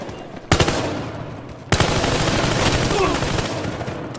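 Bursts of rapid automatic gunfire from the video game Battlefield Hardline rattle loudly, a short volley followed by a longer sustained stream of shots, with a faint voice underneath.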